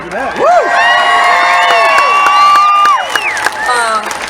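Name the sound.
crowd cheering at a fairground concert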